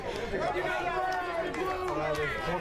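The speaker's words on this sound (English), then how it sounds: "the crowd here at McKeon Park is irate after that one" Agitated crowd at a Cape Cod League baseball game at McKeon Park, a constant murmur of chatter and shouting voices filling the whole stretch.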